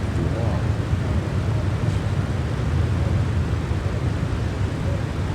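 Steady, loud engine roar and airflow rumble inside an airplane in flight as it turns right towards Salerno, continuous and unbroken with no voices.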